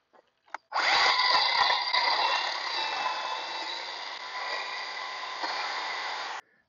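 A small WORX 20V cordless chainsaw runs steadily for several seconds, its high buzzing whine biting through wood with slight shifts in pitch, after a couple of brief clicks.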